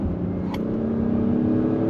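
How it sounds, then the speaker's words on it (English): A 2022 Acura MDX Type S engine and exhaust hum steadily while driving, a loud, even drone holding for a couple of seconds. "you are gonna get more sound out of the exhaust"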